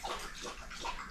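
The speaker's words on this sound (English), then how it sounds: "We have a dog which is finishing off having about 4 litres of water in one go." A large dog laps at water in a kitchen of an off-grid tiny house, a steady, close wet sloshing and gurgling with no speech.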